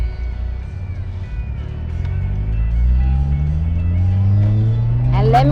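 A 2012 Honda Civic Si engine pulling through the gears while driving, its low drone rising steadily in pitch as it accelerates, with a person talking over the top.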